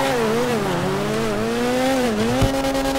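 A BMW Sentinel Classic Widebody in GTA 5 Online is double clutching, its engine droning loud and close with pitch dipping and rising as the revs shift, ending in a short low thump.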